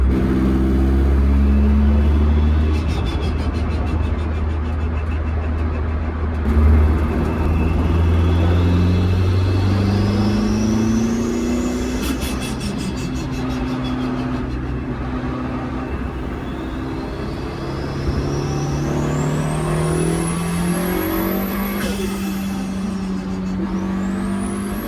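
A 500+ horsepower MR2 with a swapped 1.8T engine and a custom intake airbox, heard from the cabin as a steady loud drone whose pitch climbs and falls through several revving pulls, with faint whistling spool rising and dropping over it.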